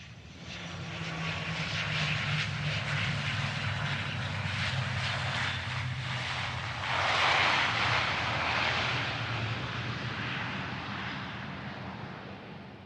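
An airplane flies into Seattle: a steady, broad engine roar holds for the whole stretch, swelling a little louder around the middle before easing off slightly, with no voices.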